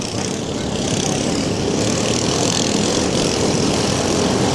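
A racing lawnmower engine at a bash for cash lawnmower event roars loud and steady, a dense unbroken mechanical drone close by, with no pauses across the stretch.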